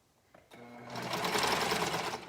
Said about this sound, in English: So let's sew up the other one.